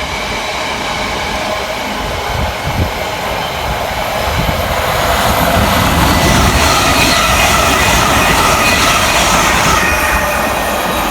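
A fast Euston-to-Crewe passenger train rushes past Queen's Park in London, making a loud, steady rumble of wheels and hiss of air that swells gradually toward the end, with no voices.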